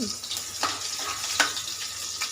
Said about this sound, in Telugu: పచ్చిమిర్చి ముక్కలు, ఉల్లిపాయ ముక్కలు బాగా ఫ్రై చేసుకోవాలన్నమాట